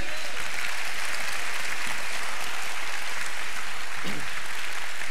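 A church congregation claps for the Lord during an Angus Buchan meeting in Fort Smith, Arkansas, with a dense, loud wash of applause filling the clip and a brief murmur near the end.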